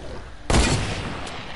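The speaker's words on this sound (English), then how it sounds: "I'm getting sniped." A single loud sniper shot cracks in a video game, sudden and sharp after a quiet lead-in, then its echo slowly fades, with a faint second report near the end.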